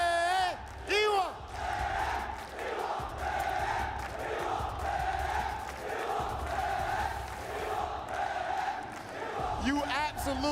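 A large crowd at an esports watch party for a Fatal Fury tournament chants in a loud rhythmic unison, swelling and repeating, with a host's voice briefly heard at the start and end.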